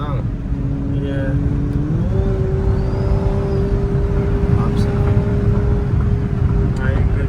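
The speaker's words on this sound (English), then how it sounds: "Screamer pipe sounds crazy." A tuned BMW X3 M40 with a screamer exhaust pipe accelerates hard, its steady rising engine drone loud and continuous throughout, with voices talking over it inside the car.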